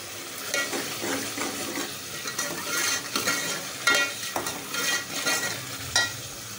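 Keema, minced meat, frying in oil in a pan while being stirred, a constant close sizzle broken by repeated spoon scrapes at an uneven rhythm.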